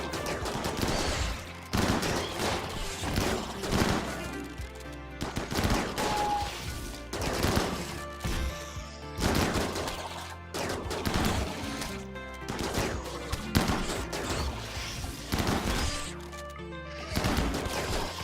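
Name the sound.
chain shotgun firing in RimWorld, video game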